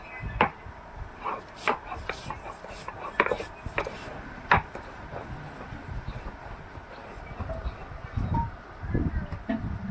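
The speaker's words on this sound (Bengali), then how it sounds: "এই যে আদা বেটে নেবো" Ginger is ground on a grinding stone, with irregular sharp knocks and scraping strokes close by, separated by short quiet gaps.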